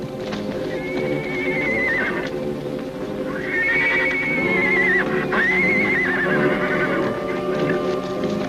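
Horses whinny loudly several times, the calls rising and falling over a busy background of hoofbeats and commotion.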